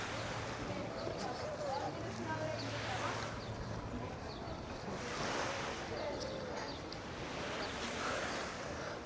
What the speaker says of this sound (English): A lovely little beach spot here.